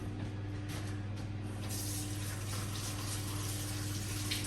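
Hands are rinsed under a running kitchen tap after shaping mincemeat, making a soft, continuous hiss of flowing water that stays fairly faint and even throughout.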